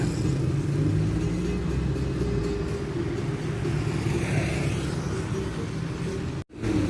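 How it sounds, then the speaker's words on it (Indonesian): A Sinar Jaya intercity bus pulls away on a morning departure from Gading, Wonosari in Gunungkidul, its engine a steady close, heavy rumble throughout that cuts off abruptly near the end. "Sinar Jaya sudah mendapatkan lampu hijau yang artinya segera berangkat"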